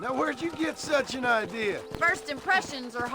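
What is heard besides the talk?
No everyday noises stand out.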